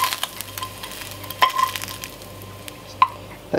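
Cold bacon laid into a frying pan, with a soft sizzle under scattered clinks and scrapes of utensils against the pan and two sharper metallic taps.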